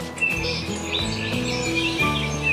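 A small bird building its nest on a wire gives repeated sharp, high chirps and tweets in quick bursts, close and clear, with no talk.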